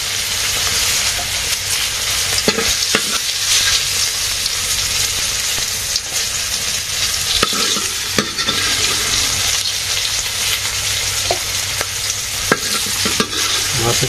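Fish fries in a pan over a stove in a Bangladeshi farmer's home kitchen, a loud, unbroken close sizzle with occasional clinks and scrapes and no talking.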